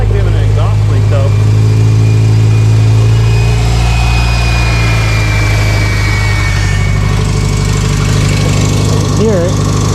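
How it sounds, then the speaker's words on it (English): A grey Subaru STI engine idles with an exhaust leak, a loud, close, steady low rumble with a faint ticking texture. A voice speaks briefly over it. "Sounds like we have an exhaust leak though."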